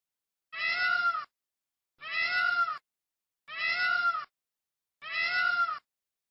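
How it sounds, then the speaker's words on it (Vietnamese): A peacock calling: four loud, identical wailing cries, each under a second long, evenly spaced and separated by silence. "Con công."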